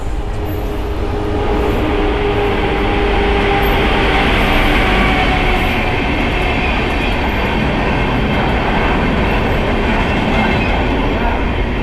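Train at railway platform number 2 of a station, a steady loud rumble of rolling carriages with rhythmic wheel clatter running throughout, close and continuous.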